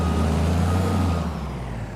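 A heavy logging truck in Farming Simulator 22 drones with a loud, steady low engine rumble, holding close and constant before easing slightly toward the end, with no voices.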